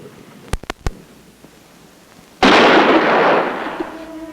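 A loud gunshot-like blast bursts out in a 1963 exploitation film, followed by a long, noisy decaying roar, after a few sharp clicks.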